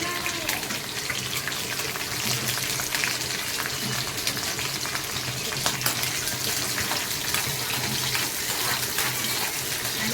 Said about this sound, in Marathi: प्रथम तेल टाकले आपण त्याच्यानंतर ठेचलेलं लसूण आणि हिरवी मिरची